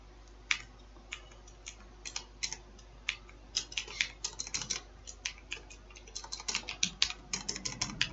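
Rapid, irregular clicking of a computer keyboard as someone types C++ code, with bursts of close, crisp keystrokes and short pauses between them, no voices.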